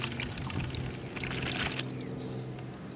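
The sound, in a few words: pouring a cup of water into a cooler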